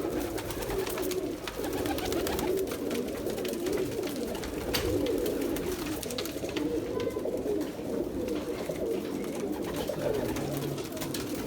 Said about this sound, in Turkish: Akşam mezatımıza çıkacak kuşlarımız beyler.